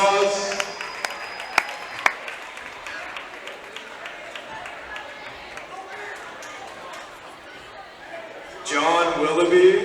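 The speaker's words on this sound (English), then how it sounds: "Give a round of applause." At a varsity boys basketball game, scattered applause rises in a gym, with a few sharp individual claps standing out early and crowd noise beneath. The clapping thins through the middle, then swells again near the end.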